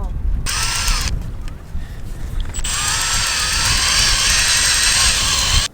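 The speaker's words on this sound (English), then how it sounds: "Right, I've got all the holes all drilled and tapped." A power drill whines in bursts while drilling and tapping screw holes on a sailboat being prepped, a short run then a longer steady spin, loud and close, with background noise between bursts.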